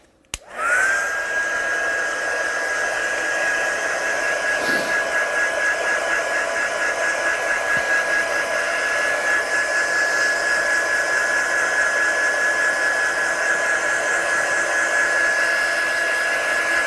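A heat gun runs in a steady, loud whoosh for the full stretch, drying ink on a stamped card after one brief startup burst, with a constant high whine over broad airflow noise.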